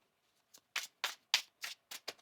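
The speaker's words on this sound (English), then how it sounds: "One more shuffle here, please, and thank you." A tarot card deck is shuffled by hand in seven quick riffling bursts, close and crisp, with short gaps between them and no talking.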